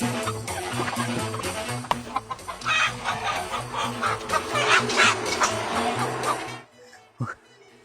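Chickens cluck and squawk repeatedly at close range, loud and busy, then fall quiet in the final second, with no one speaking.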